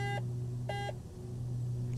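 A cockpit alarm in Microsoft Flight Simulator X sounds two short, steady electronic beeps about half a second apart over a constant low engine hum.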